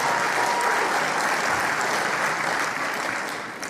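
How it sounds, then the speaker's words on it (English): A debate audience applauds, a dense, steady clapping crowd that holds loud for several seconds before tapering slightly at the end. "So we just clapped for Ben comparing primates to humans."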